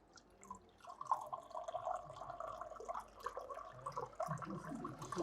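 Water runs from a tap into a bottle in a classroom, a quiet, uneven trickle and splash that continues for several seconds.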